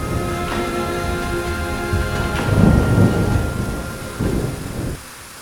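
Heavy rain pours down during a sudden storm at a forest campsite in Bandarban, with rumbling thunder swelling in the middle and again near the end before easing off.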